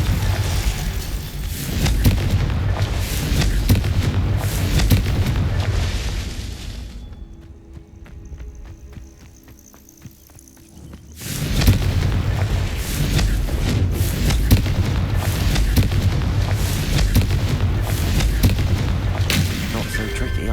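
Confringo fire-spell blasts in the Hogwarts Legacy video game, loud booming explosions over dense combat noise, with a brief lull in the middle before the blasts resume.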